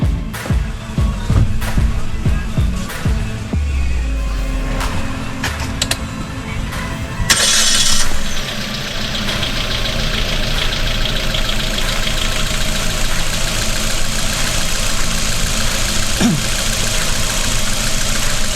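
Suzuki Ertiga engine running after a water pump replacement, starting with some knocking bursts, then settling into a steady idle hum that carries on close and fairly loud for the rest of the clip.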